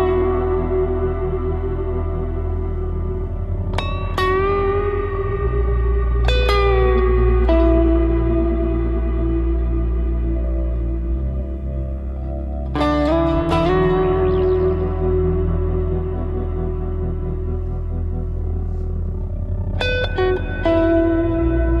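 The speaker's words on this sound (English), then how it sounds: "Gonna go to the dual reverb where I've got a plate with a hall." Electric guitar notes and chords through a BOSS GT-1000's dual reverb, plate combined with hall, ring out with a lush, long tail, each struck phrase blooming into a wide, spacious wash that lingers and decays.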